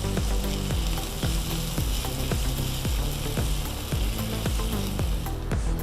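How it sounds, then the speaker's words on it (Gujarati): Okra sizzles and fries steadily in a hot pan for a creamy malai bhindi, a dense continuous crackle with regular stirring scrapes throughout, close and fairly loud, no talk. "એને બરાબર સાંતળી લેવાનું."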